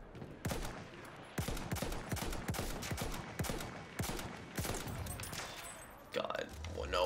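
Rapid bursts of Battlefield 1 gunfire crack in a quick irregular series of sharp, close shots, with sniper fire in the mix, sometimes spaced and sometimes clustered, before a rumbling blast near the end, with a voice talking between shots.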